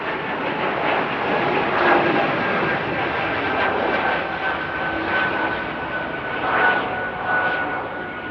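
An Embraer E2 jet airliner taking off at Amsterdam airport gives a continuous, broad engine roar that swells and eases at a distance, with faint voices speaking over it.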